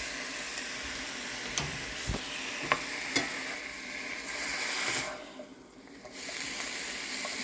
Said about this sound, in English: Just cook the onions right up with the burger.